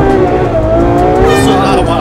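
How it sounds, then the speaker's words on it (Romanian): Ferrari sports car doing a launch control start with wheelspin, loud engine roar climbing in pitch with squealing tires, close and continuous, with a voice faintly present underneath. "Îi dăm un launch control, dar îți spun din prima că nu o să te impresioneze pentru că o să o patineze roțile."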